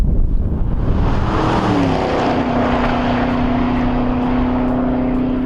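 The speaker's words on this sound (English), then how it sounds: "You go to blip the throttle, it does it instantly" A 2013 Chevrolet Camaro 1LE engine revs sharply in a quick throttle blip, then settles into a steady, loud, close-up drone with a rising and holding tone.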